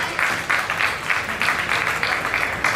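An audience at a Durga Puja festival gathering claps together in steady, dense bursts that rise and fall for a few seconds, with no talking over it.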